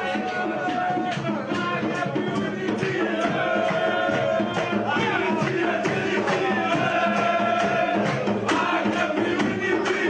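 Football fans cheering on the national team sing together in a crowded café in Kelibia, a loud, sustained chant with rhythmic clapping that runs throughout.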